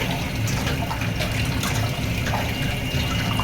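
Four chicken leg pieces are washed in water, with steady close splashing and running water going throughout and no voices.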